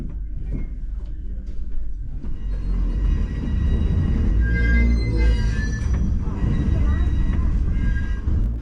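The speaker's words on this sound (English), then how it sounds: "It is then shunted onto the ferry, split into half again, reversed out and back in" Sleeper train coaches are shunted onto a ferry, with a loud, steady low rumble of rolling stock and faint wheel squeal, and a voice speaking over part of it.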